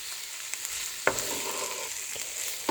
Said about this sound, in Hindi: 3 जवे लहसुन के मैंने बारीक चॉप कर लिए थे, ये मैं इसमें डाल दूंगी और इसको मैं 30 सेकंड के लिए मिक्स करूंगी।